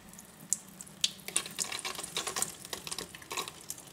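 Cold water from a tap fed through two filters, one of them fine charcoal, flows faintly in the distance. It sounds like a soft, continuous splash, broken by small irregular clicks and drips.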